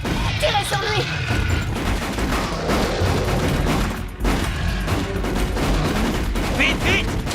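Continuous loud automatic gunfire and blasts from a science fiction film battle fill the scene, rapid bursts layered with shouting voices throughout.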